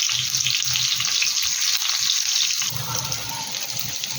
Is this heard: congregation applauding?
no